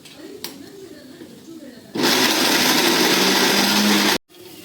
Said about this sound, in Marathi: आता मम्मीने ना तो जो मसाला कढईतला होता ना तो ह्याच्यात टाकलाय आणि तो आपल्याला आहे ना ग्राइंड करून घ्यायचा.